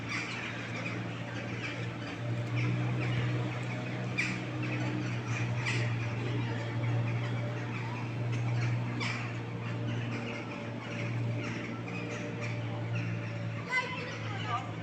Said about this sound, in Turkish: Kargalarımız biraz azalmış.